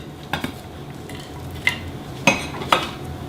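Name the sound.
bacon pieces being placed on a plate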